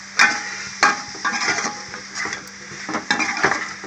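Mutton pieces and drumsticks frying in a pan, crackling and sizzling with sharp scrapes and stirring clatter as the food is turned, close and clear.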